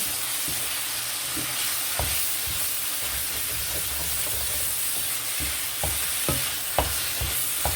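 Food for a burrito bowl browning in a frying pan, a steady close sizzle with occasional sharp pops and light scrapes from stirring, no voices.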